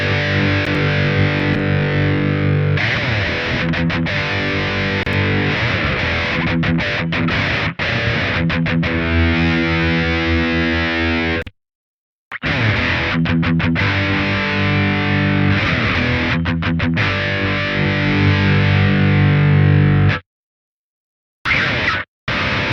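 Electric guitar played through the Big Bastard v2.3 amp sim on its low gain setting, loud distorted chords and riffs ringing continuously, broken by two brief silent gaps near the end.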